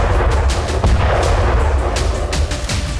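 Artillery bombardment in Ukraine comes through as a rapid series of heavy booms and cracking blasts in quick succession, loud and reverberant against a rumbling background.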